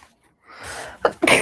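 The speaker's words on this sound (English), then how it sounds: "I'm gonna sneeze." A single human sneeze, the breath building briefly before two sharp bursts close together, loud and near, with no talk around it.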